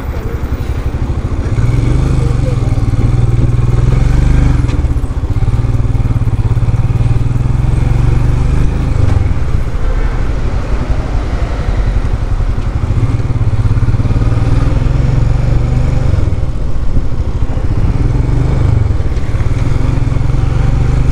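A motorcycle ridden on the road from Kolkata toward Siliguri, its engine a loud, constant close drone with rising and falling revs and heavy wind rumble throughout.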